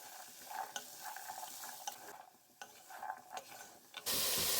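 Potatoes and carrots frying in a pan for a mixed vegetable dish with grated coconut, a soft continuous sizzle broken by scraping stirs from a utensil, steady and close, without talk.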